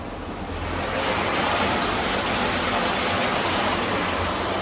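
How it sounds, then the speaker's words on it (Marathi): Heavy rain pours down in a steady, dense roar of hiss, unbroken for the whole stretch, with no voices. "भरपूर पाऊस पडतोय."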